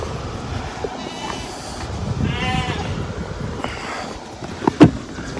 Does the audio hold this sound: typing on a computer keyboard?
no